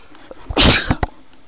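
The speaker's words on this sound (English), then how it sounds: "That's the first sneeze of 2012" A single sharp sneeze bursts out close by, loud and broadband, followed by a couple of soft breaths or sniffs.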